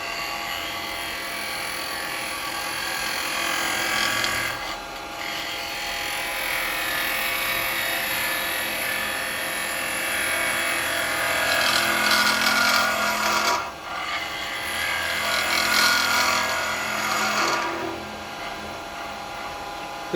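A spindle gouge cutting end grain on a spinning wood lathe for a small toothpick holder, a steady bright hissing scrape that runs continuously, briefly easing off twice before resuming, with no voices.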